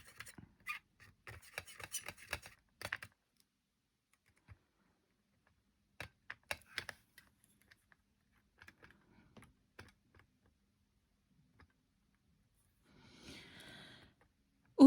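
A palette knife mixes paint in a small pot with quiet, scattered scraping and tapping bursts separated by long silences, ending with a brief rasping stir.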